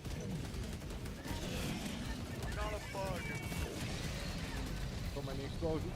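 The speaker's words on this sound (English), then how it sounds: "So many explosions" Rapid bursts of gunfire and explosions rattle through a Helldivers 2 firefight, a dense continuous barrage with scattered sharper blasts, while players talk over the action.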